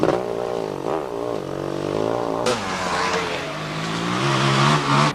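Enduro motorcycles on a tricky forest corner at the 1993 Welsh Two Day Enduro, engines revving hard and rising in pitch, loud and close as a bike accelerates through.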